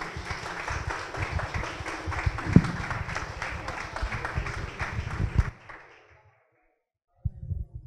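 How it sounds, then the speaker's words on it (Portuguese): Dense audience applause fills a panel discussion hall for several seconds, steady and close, then breaks off sharply into near silence before a voice resumes speaking. "Uma salva de palmas, por favor."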